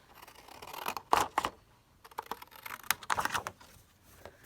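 Scissors snip through decorative paper for an altered file folder craft, a few quiet crisp cuts in short bursts with pauses between, close by and without talk.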